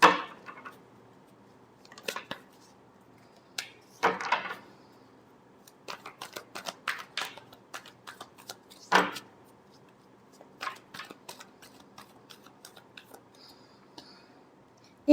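A deck of tarot cards shuffled by hand at close range, giving soft papery riffles and light taps in scattered bursts, with a couple of fuller shuffles standing out against quiet gaps.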